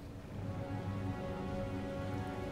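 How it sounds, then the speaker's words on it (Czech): Steady rain of blood pours down in the video game Diablo IV, a continuous dense hiss of falling drops with a low rumbling bed and no breaks, heard alone without voices. "prší tady krev"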